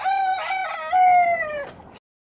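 A rooster on a farmstead in Lipa, Batangas gives one loud, close crow with a drawn-out, wavering harmonic call lasting about two seconds, then falls silent.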